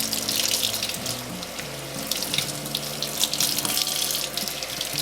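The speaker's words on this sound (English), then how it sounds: "I'm going to rinse you off" Running tap water splashes steadily during a puppy's bath at home, a close continuous rinse with no talk over it.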